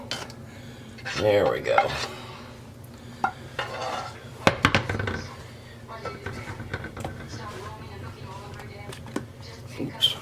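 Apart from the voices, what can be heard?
sauce poured into a baking dish of scalloped potatoes and ham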